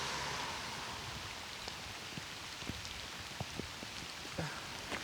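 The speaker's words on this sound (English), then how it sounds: "Just, of course, as the rain begins to fall." Rain falls on a rural walking route during a 50-mile charity walk, a quiet, even hiss with scattered single drops tapping nearby, heard alone without voices.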